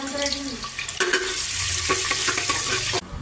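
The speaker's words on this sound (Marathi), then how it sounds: "चरबी आता मस्त गरम गरम तेलात टाकून घेऊ" Hot oil sizzles loudly and steadily with mutton fat frying in it, broken by stirring scrapes near the start and a sharp clank before it quiets.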